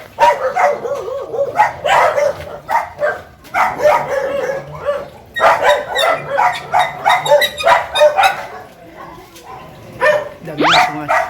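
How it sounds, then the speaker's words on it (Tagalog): Several dogs bark and yip repeatedly at close range outdoors, overlapping in bursts throughout, with a brief whimper near the end. "Isa na kayo mga idol. Maraming aso."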